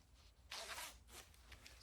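A zipper on a short rolled-neck sweater is pulled, giving one loud rasping zip followed by a couple of shorter, quieter zips, close by with no talking.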